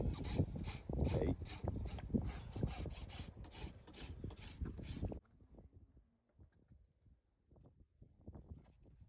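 Rhythmic rasping strokes of a farrier's rasp filing a horse's hoof during trimming, loud and close for about five seconds, then fainter scattered scrapes and taps.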